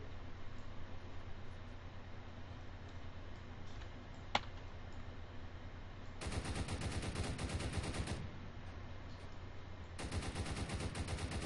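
Bursts of rapid automatic gunfire in the Roblox game Prison Life, two sustained volleys of fast repeated shots over a steady low background hum, with one sharp single crack earlier.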